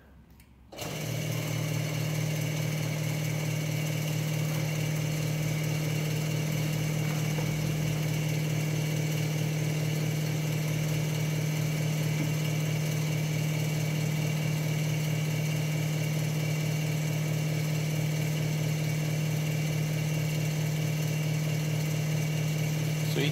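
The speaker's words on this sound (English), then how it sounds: "Get the pump going." A pump starts up after a brief moment and runs on with a loud, steady mechanical drone and hum while filling Ardbeg casks with new make spirit at the distillery, unbroken and without talk.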